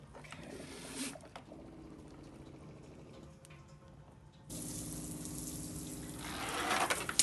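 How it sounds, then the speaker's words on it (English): Water runs from a camper van's shower and sink taps to flush the water lines, a steady close rushing and splashing that grows fuller and louder partway through. "So I've got water in the sink and I've got water in the shower."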